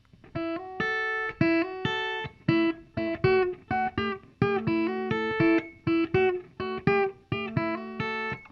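A blues shuffle riff on a solid body electric ukulele, with short plucked notes and chords in a steady, bouncing shuffle rhythm, clear and close with no talk.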